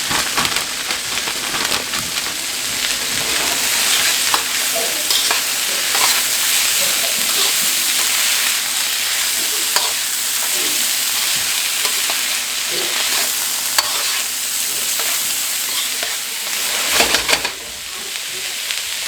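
A whole bag of seasoned carrots fries in a pan for Spam and shrimp fried rice, giving a loud, steady sizzle broken by repeated scraping stirs from start to finish.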